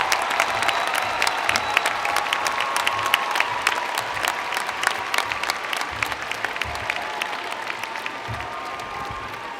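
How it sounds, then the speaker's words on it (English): Graduates at a 2016 spring commencement cheer and applaud in a large crowd, with dense, steady clapping and scattered whoops that hold for the whole stretch. "please stand and cheer your successes"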